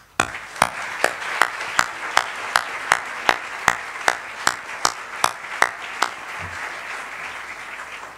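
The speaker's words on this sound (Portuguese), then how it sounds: "peço-vos que se unam a mim num caloroso aplauso de saudade e reconhecimento" An audience at a formal academic-year opening ceremony claps in a steady, evenly spaced rhythm, about a dozen sharp beats in a row ringing through a hall before stopping.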